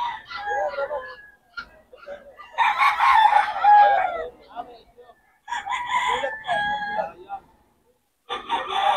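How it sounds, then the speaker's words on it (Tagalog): Several roosters crow in long drawn-out calls at a gamefowl farm in Bocaue, several crows in a row with short gaps between them, loud and close, with clucking fowl and faint voices in the background. "Ayan, mga manok niya."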